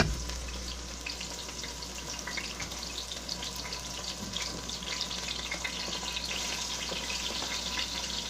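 Washed mushrooms bubbling and sizzling in a hot Instant Pot, a steady dense fizz and crackle that runs through the whole stretch with no talk.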